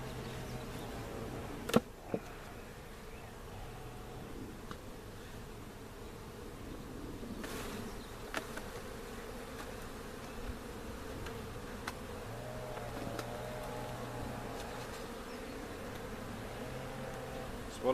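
A low, steady buzz of bees around a hive hums throughout, with a few faint clicks and knocks over it.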